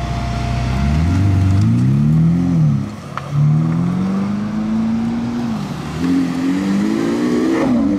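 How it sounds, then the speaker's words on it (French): Bugatti Divo supercar in a convoy accelerating: loud engine note rising through gears, dipping briefly around a shift then climbing again, close by and steady throughout. "Quand même un qui accélère."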